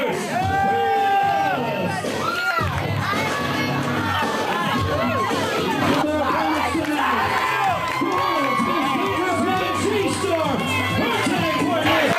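A wrestling crowd at a CWF/CSA show cheers and shouts continuously, dense and loud, with whoops and children's yells rising over a steady roar, and a commentator's voice running beneath.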